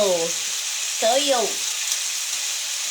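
Soy sauce sizzling in a hot pan while adobong paa cooks, a steady broadband hiss running throughout with brief voice fragments over it.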